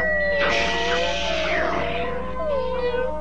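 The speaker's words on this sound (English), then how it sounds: "It's that kitten again." A cartoon kitten lets out a drawn-out, wavering meow that rises and bends, close and clear, followed by a softer trailing mew, all over a faint steady hum.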